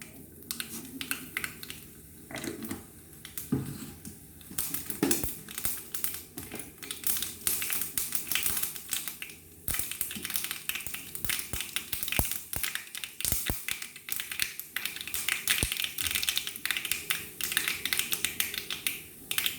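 Mustard seeds spluttering and popping in hot oil for a pineapple pulissery, a dense continuous crackle of rapid sharp pops, close and loud, with no talking.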